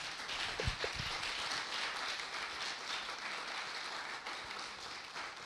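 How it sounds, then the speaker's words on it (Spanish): An audience applauds a professor at the end of an academic lecture, a sustained dense wash of clapping heard from a distance at low level, with a few sharper claps near the start. "le damos por favor un fuerte aplauso, aplauso al profesor"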